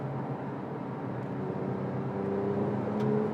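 A Porsche 911 997 Sport Classic drives along a tight, twisty country road, its engine a steady, fairly loud drone from inside the car that builds slightly toward the end.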